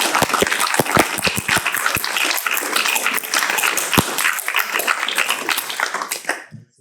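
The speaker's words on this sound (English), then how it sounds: "I just like to give a big round of applause for these two for being state qualifiers" Audience members at a school board of education meeting applaud two student state qualifiers, a sustained round of clapping with sharp individual claps standing out early, fading out near the end.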